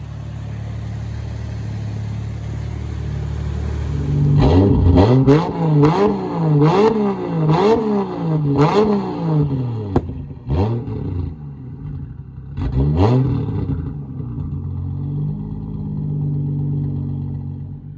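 A turbocharged 2JZ engine in a Lexus GS300 fires up on its first start, revving in a series of sharp, rising bursts before settling into a steady, rough idle close by, with no talking.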